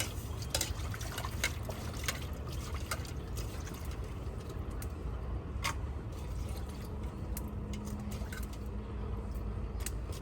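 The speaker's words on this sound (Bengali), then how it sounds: "এই যে আমি মাছগুলো সুন্দর করে ধুয়ে নিলাম" Fish are washed in water in a home kitchen, with soft continuous splashing and trickling and scattered small clicks and knocks, quiet and close with no talking.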